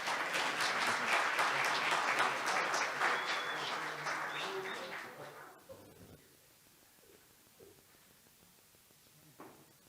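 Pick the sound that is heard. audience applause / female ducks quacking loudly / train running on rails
audience applause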